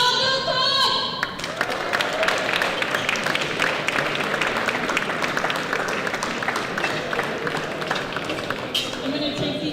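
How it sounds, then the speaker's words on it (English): A crowd at a professional squash tournament in Canada breaks into loud, sustained applause for the third-place finisher, dense clapping with a few thuds, while a presenter speaks over the start. "please give a round of applause for third place"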